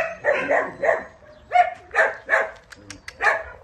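A dog barks in short, sharp yips and woofs, about seven in quick succession, close by, with no speech.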